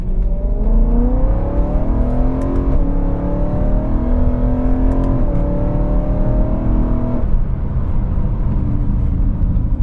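A BMW M3's inline six revs freely through several rising pulls, a smooth climbing whine with brief lifts between shifts, loud and close.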